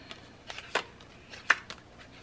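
Paper cards are torn from a pad in a quiet room, giving a few short, crisp ripping rasps spaced apart, with two louder tears standing out among softer rustles.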